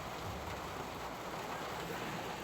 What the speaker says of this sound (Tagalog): Umuulan po sa aming lugar, guys.